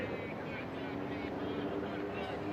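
A Carbon Cub STOL aircraft touches down on a tarmac strip at a STOL drag race. Its engine makes a continuous distant drone under broad wind-like noise.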